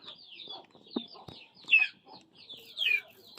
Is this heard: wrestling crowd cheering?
no